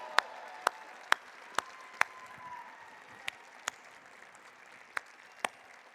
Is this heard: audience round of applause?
yes